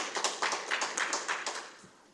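Audience applause at a Korean welfare policy forum after a presentation on Incheon's welfare baseline: a short burst of dense clapping, fairly close, fading toward the end.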